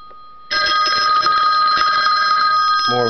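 A 1960 Automatic Electric three-slot pay phone bell rings loudly and crisply on its outdoor setting, a sustained bright metallic ringing that starts abruptly after a quiet moment and continues without pause.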